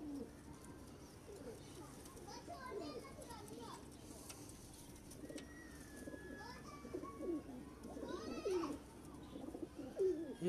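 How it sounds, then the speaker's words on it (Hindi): Home-bred pigeons kept in a cupboard loft coo in soft, repeated burbles nearby, with other bird calls, children playing and voices in the background. "चेक करें अलमारी वाले कबूतर मियाँ नज़ीर साहब वाली ब्लड लाइन से।"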